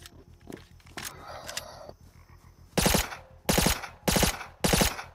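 Gunshots ring out in the video game Rust: a few scattered shots, then four loud, evenly spaced bursts fired close by.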